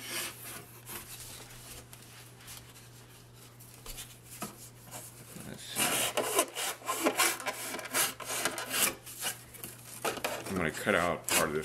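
Cardboard flap on a shadow box for viewing an eclipse being cut out with a blade, a run of rough scraping and tearing strokes that grows louder and denser midway, close up with no voice.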